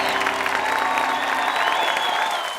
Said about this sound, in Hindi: जोरदार तालियां नवराज के लिए।